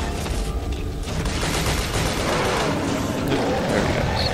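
Heavy gunfire in the Shadows of the Damned video game, a loud continuous barrage of shots blended with booming effects and game noise throughout.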